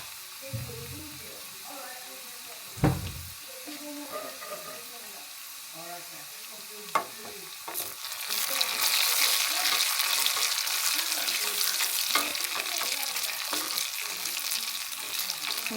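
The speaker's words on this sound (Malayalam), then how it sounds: "നമുക്കൊരു മൂന്നാല് വറ്റൽമുളക് ഇടാം" Onions and dried red chillies frying in oil in a pan, with a soft sizzle, occasional stirring knocks, and a brighter, louder sizzle in the second half.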